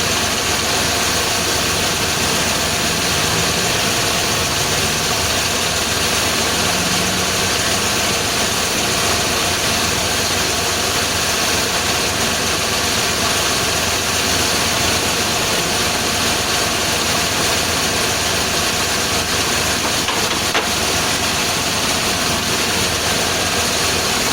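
A car engine idles steadily while its cooling system fills and coolant begins to circulate, a constant unbroken drone with a low rumble close by and no talking.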